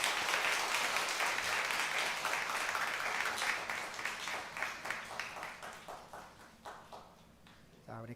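A church congregation at a Sunday service claps together in a dense burst that gradually thins into scattered, slowing individual claps, moderately loud in a reverberant hall.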